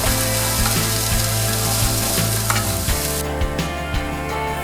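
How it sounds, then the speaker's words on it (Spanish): Onion sautéing in oil in a frying pan over medium heat for a vegan spinach and lentil curry, giving a loud, steady sizzle with rhythmic spatula scrapes roughly every half second. The sizzle drops abruptly near the end. "Calentamos un poco de aceite en el sartén a fuego medio y sofreímos la cebolla primero"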